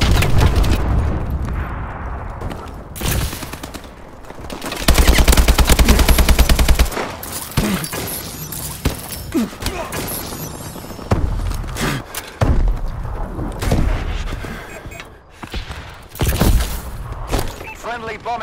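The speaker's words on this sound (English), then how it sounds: "Enemy missile strikes." Enemy missile strikes in Call of Duty: Advanced Warfare during a team deathmatch, loud and close, with bursts of gunfire and heavy blasts one after another, partly under talk.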